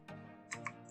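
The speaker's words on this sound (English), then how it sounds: "I'm typing" A few quick keystrokes click on a computer keyboard, soft and close, in a brief burst.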